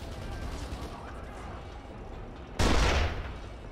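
Gunfire in the video game Kane & Lynch: Dead Men, a steady rumble of distant shooting and noise followed by one loud, sharp burst near the end.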